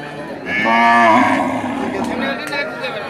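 A cow lows at a Rajshahi cattle market, one long harmonic moo rising from about half a second in and holding for roughly a second before trailing into market murmur.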